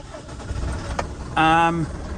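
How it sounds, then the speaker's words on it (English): A Mercedes Atego truck's engine cranks briefly and catches, giving a short loud whirring start after some faint background sound, close and alone. "obviously if I start the vehicle"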